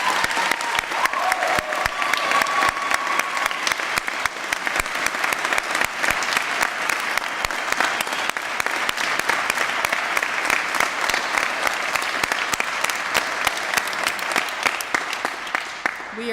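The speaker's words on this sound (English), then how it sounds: "Let's have another round of applause for all of them." An audience at a college literary prize ceremony gives prize finalists sustained applause, a dense, even roar of many hands clapping that stays loud and steady for over fifteen seconds.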